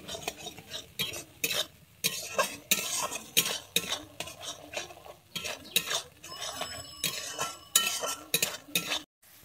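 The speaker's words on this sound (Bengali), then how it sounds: "কাজুটা দিয়ে কিন্তু এইভাবে নাড়তে হবে, না হলে কিন্তু লেগে যাবে।" Cashews are stirred in a pan with oil as they fry, giving a quick series of scraping, clinking strokes of a utensil against the metal over a faint sizzle, repeated rhythmically and fairly close.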